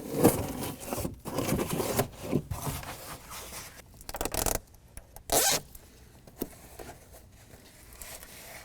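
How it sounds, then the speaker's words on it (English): Tape backing peeled from a Velcro strip during a BedRug install in a Jeep Wrangler TJ: several close, rasping tearing and scraping strokes, the loudest near the start and a short sharp rip midway. "we're going to peel off the tape protectant from the Velcro strip"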